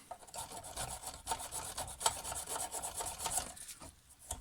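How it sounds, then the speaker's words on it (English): An old file makes light rasping strokes as it clears burrs from the underside of a hedge trimmer blade, a quiet, close, repeated scraping with no talk. "just a couple of light little strokes."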